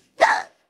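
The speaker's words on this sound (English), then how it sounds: "I have a very mad case of hiccups." A single sharp hiccup, brief and close, in otherwise silent surroundings.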